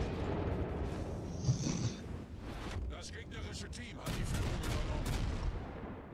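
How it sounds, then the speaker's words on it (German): Rapid, continuous naval gunfire in World of Warships, a dense roar of repeated shots with booming low end that never lets up, played loud throughout with no clear pauses. "der schießt, die hört ja gar nicht mehr auf zu schießen"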